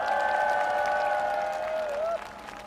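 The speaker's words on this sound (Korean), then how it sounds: "이곳에 계신 성동 동대문 그리고 청년들에게 뜨거운 박수를 서로 보내주시기 바랍니다" A crowd at an outdoor political rally in Seongdong, Seoul claps steadily while a loud, sustained whistle-like tone rides over the applause, then bends and cuts off near the end, leaving quieter clapping.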